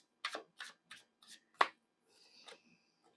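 A tarot card deck is shuffled close up in a quiet room, with about six crisp, separate card riffles and slaps in uneven rhythm, followed by a fainter, softer rustle.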